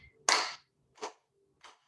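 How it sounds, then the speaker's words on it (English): Hands clap in an exercise routine, three separate claps spaced evenly, the first loudest and the later ones softer, near and dry with no talking. "So the very first thing we're going to do is just clap."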